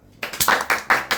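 A few loud, close hand claps at a podcast recording, about five distinct sharp claps in quick rhythm after a short silence.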